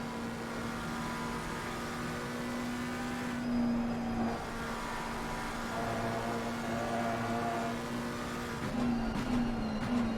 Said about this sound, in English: So Hoyer looking for another run at the Ukrainian BMW.